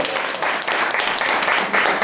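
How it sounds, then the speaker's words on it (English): Audience at a youth poetry slam applauding a poet after the scores are read, a steady, fairly loud wash of many clapping hands with a voice faintly mixed in. "Applause for poet there the score"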